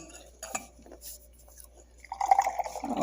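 Tequila drink poured into a glass at home: a faint clink and drip early on, then a steady close trickle of liquid filling the glass over the last second, with no speech.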